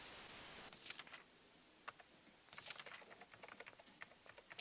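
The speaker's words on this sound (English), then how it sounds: "Somebody typing and flipping pages." Someone typing on a keyboard and flipping pages in the video game Night Security, quiet clusters of light key taps with a couple of brief papery rustles over a faint hiss.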